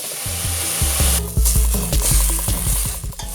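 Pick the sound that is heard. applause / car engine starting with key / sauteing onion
sauteing onion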